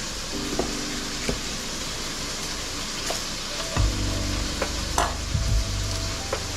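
Potatoes, carrots and onion fry in a pan with a constant loud sizzle, broken by a few clacks and scrapes of a utensil as the vegetables are stirred and tossed.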